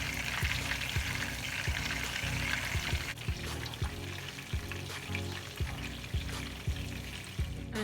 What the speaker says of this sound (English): You could be monitoring your burgers and flip it on the other side to cook.